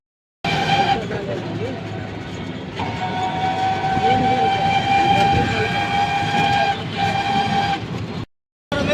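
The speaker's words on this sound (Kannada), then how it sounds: "ಇಲ್ಲಿ ನಮ್ಮ ಮನೆ ಬಲ್ಲಿ ಅದ ರೀ ಮೆಟ್ರೋ ಸ್ಟೇಷನ್." A metro train on the Pink Line at an elevated metro station, its loud rolling rumble and rail noise running steadily for several seconds with a sustained high whine, then abruptly cutting out near the end.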